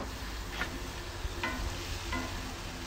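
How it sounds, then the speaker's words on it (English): Steady frying sizzle fills the clip, a constant crackling hiss with a few brief brighter pops, close by and with no one talking. "So we've got the sizzle show on."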